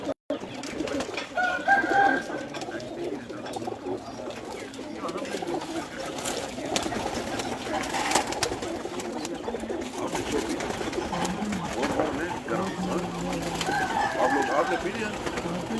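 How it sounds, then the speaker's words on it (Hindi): A khaki pigeon coos among many other pigeons at a farm house loft near Islamabad, with a steady busy bird murmur, a distant rooster-like call and voices talking throughout. "जुनेद भाई वो खाकी कबूतर बाहर निकाल दें।"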